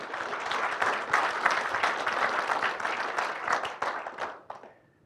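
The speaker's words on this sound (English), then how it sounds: "round of applause for Mr. Cunningham" Applause from a national conference audience honouring a past patron, a dense run of many hands clapping that swells, holds, then thins to a few last claps and fades out.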